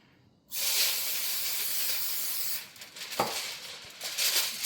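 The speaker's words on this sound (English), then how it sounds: "I'm also going to spray my foil." A close, sustained aerosol spray of cooking spray onto aluminum foil hisses for about two seconds, followed by crinkling and handling noises.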